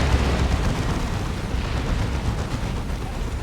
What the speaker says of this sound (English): Meanwhile, Orbital Bombardment